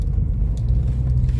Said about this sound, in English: The engine's running nice and smooth